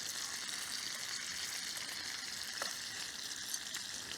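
Half slices of bacon fry in a small camping skillet, giving a steady close sizzle and crackle with a few sharper pops and no voices.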